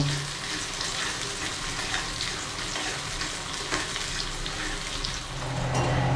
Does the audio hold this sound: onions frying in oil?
yes